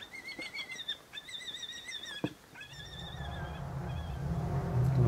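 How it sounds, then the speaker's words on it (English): Birds call outdoors in a run of repeated, warbling high notes that fades out, followed by a rising low rumble of background noise. "just birds and more birds."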